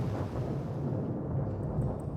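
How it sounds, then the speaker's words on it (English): Low thunder rumbles steadily through a rainy, windy storm in the visual novel Variable Barricade, a continuous deep roll with no talking. "Thunder. It's getting closer."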